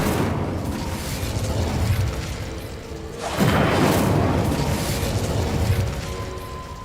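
An Incendio fire spell blasts out in Hogwarts Legacy, a sudden loud whooshing burst that swells and then trails off under a steady game backdrop.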